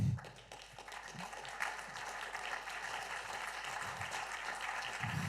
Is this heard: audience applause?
yes